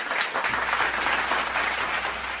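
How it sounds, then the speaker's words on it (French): Dense applause from many hands, steady and continuous at moderate loudness, with a faint low hum underneath. "Je mérite un petit applaudissement"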